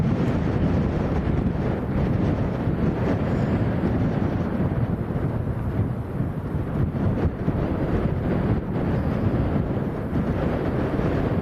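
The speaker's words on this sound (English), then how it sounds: "It's always pretty breezy here." Strong wind at Lanzarote airport roars and buffets continuously against the microphone, a dense low rumble with no break and no voices.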